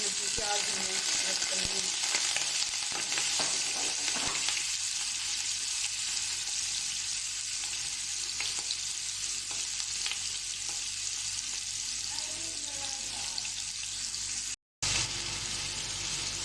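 Chopped onions fry in a pot for beef paya, a loud continuous sizzle with scattered stirring clatter throughout and a short dropout near the end; no talking.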